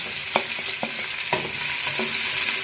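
Finely chopped ginger and garlic fry in hot oil in a pan, giving a loud, steady sizzle close by, broken by several clicks and scrapes of a stirring spoon against the metal.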